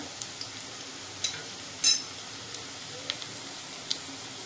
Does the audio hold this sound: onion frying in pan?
yes